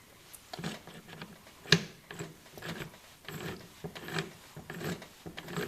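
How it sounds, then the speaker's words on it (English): Gears of a Maico 660 two-stroke dirt bike gearbox being shifted by hand in the bare engine cases during a build, giving soft, scattered mechanical clicks and rubs with one sharper metallic clack, close up in a quiet workshop. "So, looks like all the gears shift."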